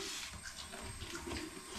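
Water is poured out for a pet called Smurfy: a soft, continuous splashing hiss, fairly quiet and unbroken, with no voices over it.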